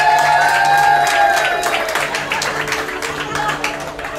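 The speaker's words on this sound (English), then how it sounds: "big round of applause for Miss Estrella Feliciano and Mr. Raimundo Galicia." Guests applaud the godparents at a wedding reception in Honolulu, steady crowd clapping with some cheering that fills the whole stretch, loud and dense, easing slightly toward the end.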